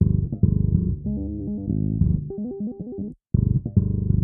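A muffled metal bass guitar line, low-pass filtered at 300 Hz, with dull, rounded tone plays a busy run of notes, stopping briefly near the end before resuming.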